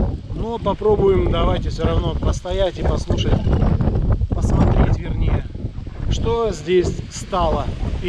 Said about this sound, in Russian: извините за ветер, наверняка он очень сильный сейчас